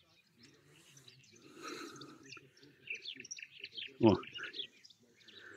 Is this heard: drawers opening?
no